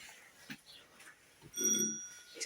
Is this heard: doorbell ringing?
yes